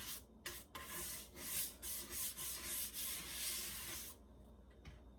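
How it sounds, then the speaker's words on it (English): A stiff plastic brush scrubs a cutting board in quick back-and-forth strokes, close and raspy, then stops near the end, leaving a few faint scuffs. "I like these stiff plastic ones. And just rub off any particulates or food."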